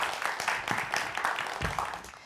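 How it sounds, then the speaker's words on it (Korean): An audience at a Korean lecture on math and jobs applauds, a brief rush of many hands clapping with a few louder individual claps, fading slightly toward the end. "다시 한번 큰 박수 보내주시기"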